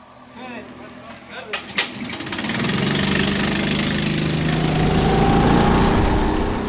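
A racing kart engine runs during a six-hour endurance race at Music City Kartplex, quiet at first with a few knocks and clatters, then rising into a steady, buzzing, mower-like drone that holds close and loud.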